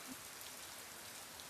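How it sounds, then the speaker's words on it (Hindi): Heavy rain falls outside as a steady, dense hiss that stays even and fairly soft throughout, with no voices. "भाई यार बाहर तो बहुत बारिश हो रहा है भाई"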